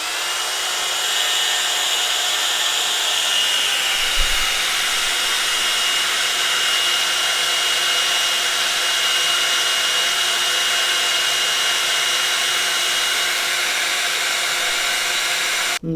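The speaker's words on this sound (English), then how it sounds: "my heat tool doesn't stretch as far as I would like it to, but and it might go noisy" Heat tool melting white embossing powder on a card: a loud, steady electric blower whine and rushing air that holds constant throughout, with a brief thump near the start and no talking.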